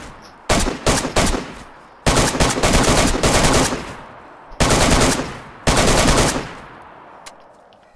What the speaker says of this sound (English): I'm shooting through it.